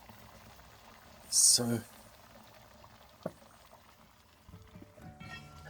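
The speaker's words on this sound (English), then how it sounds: "Still got a lovely bubble to it." Lamb curry simmering in a cast iron potjie over a wood fire gives soft, sparse bubbling and one brief louder gurgle, close but faint, with someone speaking briefly near the end.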